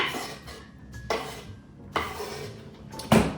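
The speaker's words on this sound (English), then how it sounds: "I like to give it another chop just because I think that it should be chopped very finely for this recipe" Finely diced onion is chopped with a knife on a board, giving three spaced, sharp knocks each followed by brief scraping and rustling, close and moderately loud with no voices.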